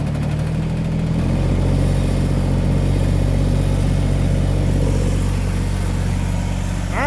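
A car engine idles steadily after a cold start on a late-November morning, a loud continuous low rumble filling the whole stretch with no talk over it.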